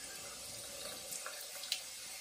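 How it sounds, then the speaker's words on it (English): Bloom water is poured out of a shaving bowl, a faint, steady trickle and splash of water heard close up and quietly, with no voices. "Pouring the bloom water out"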